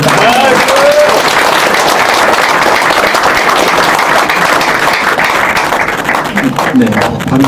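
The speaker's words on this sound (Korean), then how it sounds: "박수입니다" Loud, sustained applause from an audience after a talk and Q&A on election fraud, dense clapping throughout with voices mixed in near the end.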